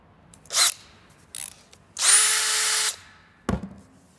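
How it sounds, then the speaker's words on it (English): A cordless drill whirs in short bursts, a brief spin, another quick pulse, then a longer steady run of about a second, close and fairly loud. "with the cordless drill, not only can you use the smooth shank bit"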